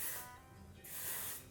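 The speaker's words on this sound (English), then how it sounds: "spray it again." Hairspray sprayed onto hair in two close hissing bursts, each lasting a fraction of a second, separated by a short pause.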